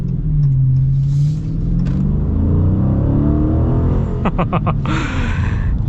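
Chrysler 300C with a 6.4-litre Hemi V8 accelerating hard in sport mode, a loud continuous engine roar with rising pitch heard from inside the car, then a brief gear-change stutter and more revving.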